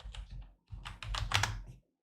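Computer keyboard being typed on in two quick bursts of clattering keystrokes, close and fairly loud, with a short pause between them.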